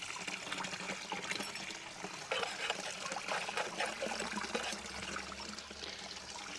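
Steady trickling and splashing of water spilling over a water blade spillway, a soft continuous flow heard close up.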